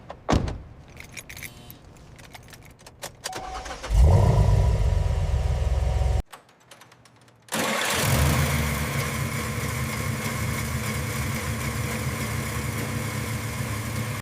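Keys jingle at the ignition of a restored 1976 car, then the starter cranks and the engine catches with a loud burst. After a short pause it settles into a steady, even idle close by.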